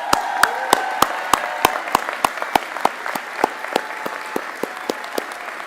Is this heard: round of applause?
yes